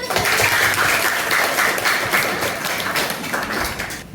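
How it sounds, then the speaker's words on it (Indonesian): Classroom applause during an Islamic religious education lesson, a dense, loud burst of many students clapping together, steady for several seconds before tapering off at the end. "tepuk tangan"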